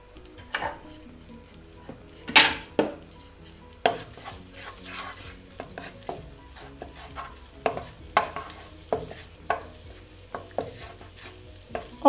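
Cardamom seeds fry in a tablespoon of oil, a soft hiss under repeated close metallic taps and scrapes of a spoon stirring the pan, irregular and moderately loud.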